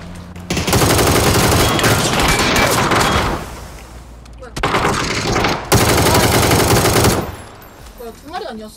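Rapid automatic gunfire in PUBG erupts in loud sustained bursts, with a short lull before another long burst, close and dominant.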